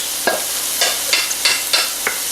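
Garlic, carrots, jalapenos and red onion fry in a pan with a steady, close hiss, broken by about six brief scraping stirs at regular intervals.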